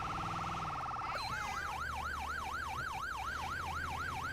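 Ambulance siren on an emergency response in GTA 5 LSPDFR, a steady fast tone switching to a loud, continuous wailing sweep that rises and falls at a regular rhythm, close and dominant over a low vehicle rumble.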